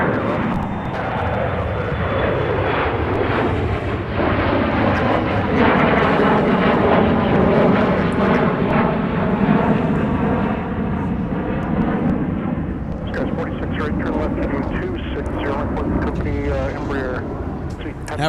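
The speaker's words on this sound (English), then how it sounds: "runway 30 left, clear for takeoff." An Aer Lingus airliner takes off from runway 30 left at Minneapolis–Saint Paul airport, a loud sustained jet engine roar that swells and holds, with wind buffeting the microphone.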